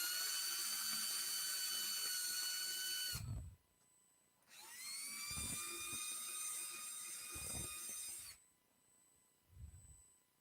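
A high-pitched drill whines in two long runs into a storm window frame, spinning up and winding down, with quiet clunks and handling noises in the gaps.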